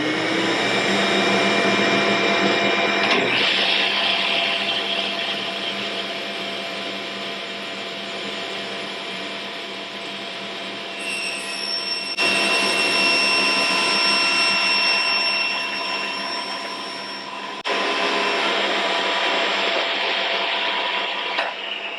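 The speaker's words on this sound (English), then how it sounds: "dust collectors" A woodshop dust collector roars steadily throughout while a saw cross-cuts a board, its whine swelling louder in two stretches over the constant close-up drone.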